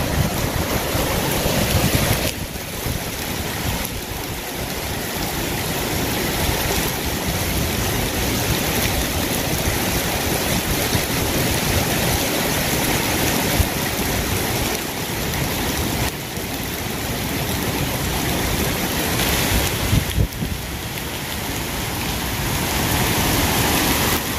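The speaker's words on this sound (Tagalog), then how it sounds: "Grabe yung baha." Heavy rain and floodwater rush through streets in Jeddah, a steady broadband wash of pouring and flowing water that continues without a break, with no voices.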